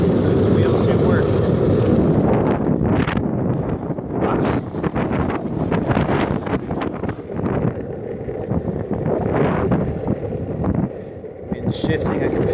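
Steady wind roars across the microphone while skating outdoors in Virginia, a loud continuous rush with gusty swells that fills the whole stretch.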